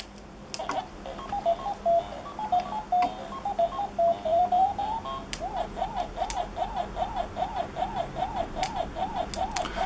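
Pac-Man game sounds generated by a single ATMega168 chip board: chirpy electronic bleeps and a rising melodic run, then the repeating rhythmic waka-waka munching pattern, moderately loud with small clicks, no talking.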